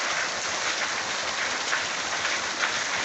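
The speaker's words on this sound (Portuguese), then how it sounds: "Muita chuva" A downpour in Pernambuco, northeastern Brazil, roars as a constant close wash of raindrops hammering surfaces, loud and even with no speech.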